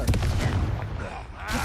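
Confringo fire spell cast in Hogwarts Legacy, a dense burst of crackling, booming blasts filling the short moment, loud and close with a brief sharp flare near the end.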